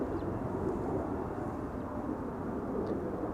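An Embraer 175 airliner arrives at Amsterdam Schiphol on its approach from Bergen, heard as a steady, broad engine rumble with no breaks or surges, moderately distant and unaccompanied by voices.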